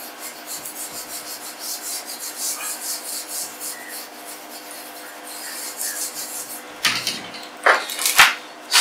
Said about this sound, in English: Okay. I erase here.